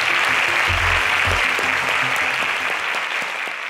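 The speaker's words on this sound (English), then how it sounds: "A round of applause for these bright minds." An audience claps for contestants at the close of a national agricultural science quiz show, loud and dense applause that continues throughout, with a few low thuds near the start and a slight fade at the end.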